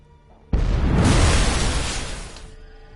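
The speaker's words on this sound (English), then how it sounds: "Well, that was a big explosion." A big explosion in the video game The Witcher 3: Hearts of Stone, a sudden loud broadband blast that roars for about two seconds and then fades out, with no talk over it.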